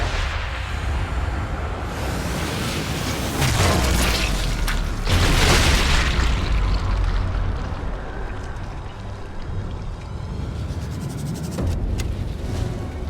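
An explosive detonated by a sniper shot in Sniper Elite 5 booms heavily and rumbles, with a couple of deep blasts and lingering low debris and mechanical noise.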